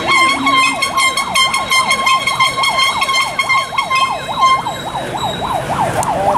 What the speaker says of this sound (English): That siren and those air horns are the counter-protesters' attempt to shut down the event.